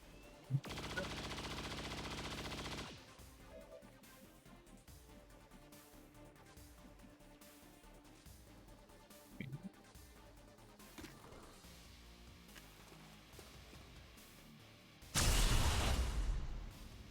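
Cannon fire in a modded XCOM game (Long War of the Chosen): a dense, sustained volley of rapid blasts near the start, quiet game ambience with scattered small effects, then a second loud barrage at the end.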